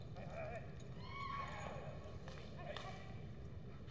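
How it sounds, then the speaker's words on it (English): A quarter horse stallion at a cutting championship show in Amarillo, Texas, gives a short whinny over constant arena crowd noise and ambient rumble, with faint hoof sounds and a commentator talking. "It's a real attractive quarter horse here."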